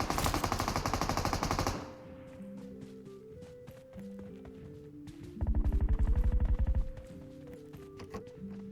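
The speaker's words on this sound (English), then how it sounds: "from the gun sound, I know that one has Groza and one has M249" Rapid automatic bursts from a Groza and an M249 in PUBG Mobile rattle loudly, one long burst at the start and another several seconds later, with running footsteps and scattered shots between them.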